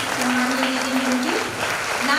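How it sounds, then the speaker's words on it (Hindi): A crowd applauds at a regional women's empowerment workshop in Raipur, a brief dense spatter of clapping with a voice speaking over it. "आप लोग की तालियां बजती रहेंगे"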